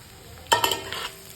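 A spoon stirs frying food in a pan while cooking an Assamese rice thali dish, with a short burst of scraping and sizzling clatter partway in, otherwise quiet.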